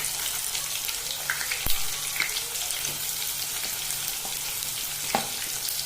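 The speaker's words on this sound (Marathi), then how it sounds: "चला मग कांद्याला पण चांगलं परतू द्या." Onion with curry leaves sautéing in a pan makes a steady sizzle, with occasional sharp spoon knocks and scrapes against the pan.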